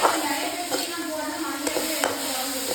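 Carrot and a single chilli stir-fried in a pan give a steady, close sizzle with a few sharper clicks and scrapes as the pieces are tossed.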